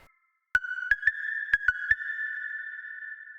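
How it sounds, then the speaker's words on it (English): A bright, steady high analog-style sine wave synth lead sustains for about three seconds, with reverb and a few short percussive clicks layered near its start. "I made an analog sound, which is just like a high sine wave."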